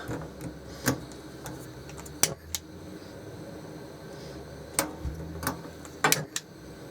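Sharp clicks of a gas hob igniter in a 1999 Sterling Europa 500 EK caravan, a handful of separate ticks at irregular intervals over a low, steady background hiss, close and fairly quiet.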